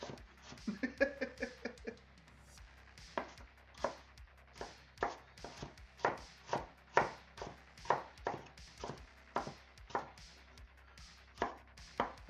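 A knife chops on a board while scone and apple pastry roll dough is prepared, with a steady run of sharp, evenly spaced chops close by, preceded by a brief clatter.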